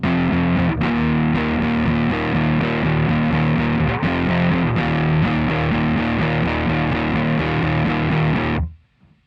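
A heavily distorted electric guitar plays a chugging, rhythmic riff for several seconds, loud and close, then cuts off abruptly.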